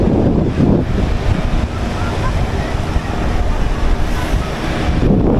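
Waves washing on a Goa beach with strong wind buffeting the microphone, a loud continuous roar with surges near the start and end.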